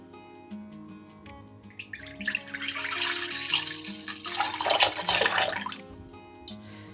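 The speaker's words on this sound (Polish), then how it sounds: "Do drugiej miski wlewamy mleko." Milk pouring into a bowl while gluten-free baked oatmeal is made, a soft steady liquid splash rising and fading over a few seconds, close and moderately quiet with no talking.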